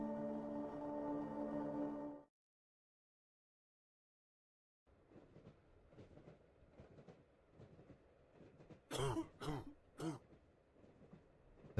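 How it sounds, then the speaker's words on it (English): A character coughs in the video game The Last Door: Season 2, three or four harsh, close coughs in quick succession that follow a droning tone, a silent gap and a stretch of quiet rumble. "The nasty cough you got there."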